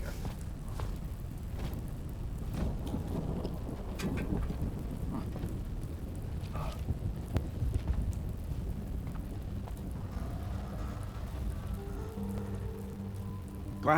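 Rain falling indoors in the video game Death Stranding 2 makes a steady, dense patter with low rumbling underneath, continuous and even, with a few faint tonal sounds near the end.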